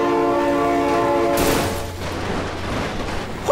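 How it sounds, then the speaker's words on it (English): A train horn holds a steady chord, then cuts off with a burst of noise as the train rushes by, followed by a low rumbling hum and rolling rail noise. "Oh my God, train!"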